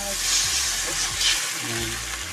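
Sardines hit a hot pan and fry for sardines with glass noodles, giving a loud, continuous close-up sizzle with a steady hiss and a few faint bumps of stirring.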